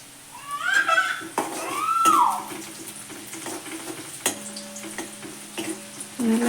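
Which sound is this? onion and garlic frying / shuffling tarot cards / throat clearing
onion and garlic frying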